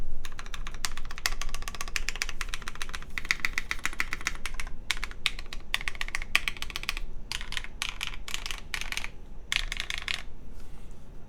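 Mechanical keyboard fitted with PBT keycaps being typed on in steady bursts of close, crisp clacks, with brief pauses between runs of keystrokes and no talking.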